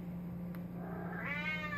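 A cat lets out a single rising meow close by, faint over a steady low hum in a sewing room.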